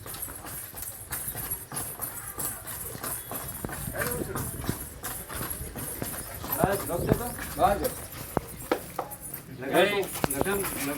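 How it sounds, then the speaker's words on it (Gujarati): A mare's hooves clip-clop at a slow walk during dance training, repeated close thuds with a faint jingle of tack, while people talk over the steps throughout. "અત્યારે નીતિનભાઈ ઘોડી હાંકશે, મતલબ આગળ રમાડશે આપણી ગાંડીને."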